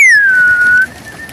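Pigeons close by give one sharp, loud whistling tone that glides downward and then holds steady before cutting off abruptly.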